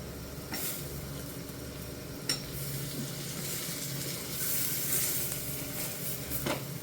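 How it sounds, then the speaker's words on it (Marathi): Eggplant pieces hit a hot pan for a Vidarbha-style vegetable dish and sizzle steadily, with a few sharp clinks and stirring scrapes over the close, even hiss. "बघा आता ही वांगी मी इथे टाकून घेते"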